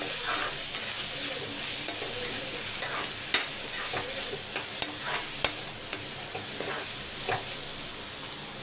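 Second batch of potatoes frying in a pan for a lunch-box dish, a steady bright sizzle with scattered pops and stirring clicks, close and continuous with no talk.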